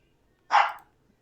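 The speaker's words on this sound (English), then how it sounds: "I don't know if my dog's barking at a turkey or what." A dog gives a single sharp bark, close and loud, set against near silence.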